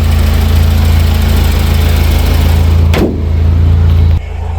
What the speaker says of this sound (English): It's a happy engine.